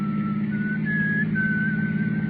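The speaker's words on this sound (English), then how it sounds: "Then I heard him whistle." A man whistles a steady, sustained tune close by in an audio drama, with a constant low rumble underneath as though inside a car.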